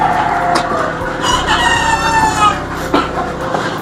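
Elba breeder chickens in colony cages, a dense flock clucking loudly and continuously, with a rooster crowing through the middle and brief sharper calls standing out near and far.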